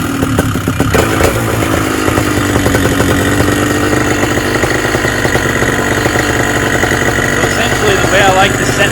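A Moster 185 paraplane engine idles steadily after a carburetor high-jet adjustment, a close, loud, continuous mechanical drone with rattling clatter that holds even throughout.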